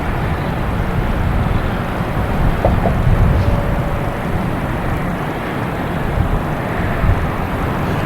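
An Airbus A320 jet airliner at Boston Logan Airport passes with a broad, steady engine rumble and roar, outdoors with wind across the microphone, constant and fairly loud.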